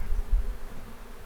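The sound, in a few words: honeybees buzzing during hive installation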